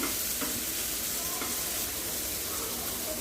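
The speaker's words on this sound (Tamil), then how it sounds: "நல்லா கொதி வரட்டும். இதில் நடுவில் கிளறி கொடுத்துட்டுருங்க." Sambar boils in a pot and is stirred, giving a continuous, steady bubbling hiss with faint scraping, close by and unbroken for the whole stretch.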